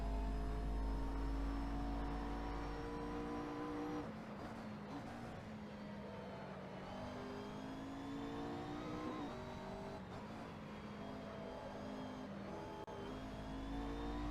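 A McLaren 650S GT3 race car in Assetto Corsa drives hard through curves. Its engine revs rise and fall with gear changes, and faint tire noise sits under the loud, close, continuous drone.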